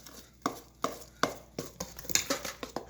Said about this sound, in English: is I want to mix this together